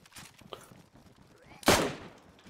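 A single sharp, loud gunshot cracks out in the video game DayZ after a stretch of quiet game-like background noise with faint clicks.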